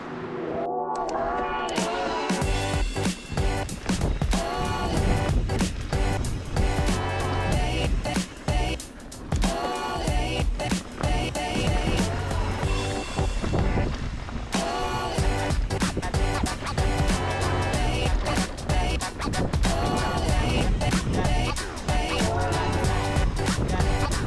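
Mountain bike riding on the Boggy Draw trail near Cortez, Colorado: continuous rattling and crunching of tyres and frame over rough dirt, with dense clicks and knocks throughout, loud and close.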